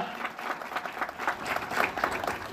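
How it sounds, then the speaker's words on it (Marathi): An audience at a talk on a Marathi writer claps loudly and continuously, a dense crowd applause with lively uneven peaks. "ज्योतिराव फुलेंसाठी एकदा जोरदार टाळ्या झाल्या पाहिजेत"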